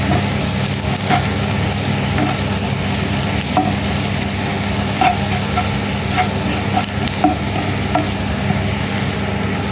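Omelette mixture of egg fries in a pan with a steady sizzle while a spatula stirs and scrapes it, producing intermittent soft clicks and knocks throughout.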